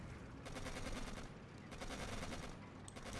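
Rapid rattling bursts of gunfire in the video game Codename: Panzers sound in two fusillades, moderately distant and continuous, with no voices.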